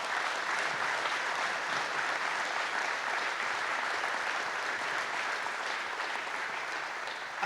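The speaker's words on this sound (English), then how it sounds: "I think that deserves a big round of applause" Sustained, dense applause fills a press conference room, steady and loud throughout with no break and no voices rising above it.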